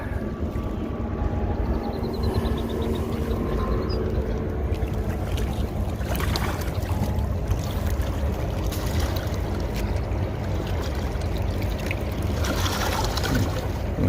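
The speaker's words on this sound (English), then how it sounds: "there's a boat scooting across the" A motorboat passes out on the Mississippi River, its engine a steady distant drone under wind and lapping water near a big bridge.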